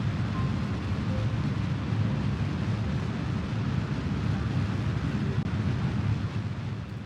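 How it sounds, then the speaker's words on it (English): Rocket engines burning in the space game Kerbal Space Program, a steady, dense low roar held evenly for several seconds without any talk. "Also, the engines were a bit loud,"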